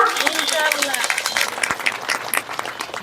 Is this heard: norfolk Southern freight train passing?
no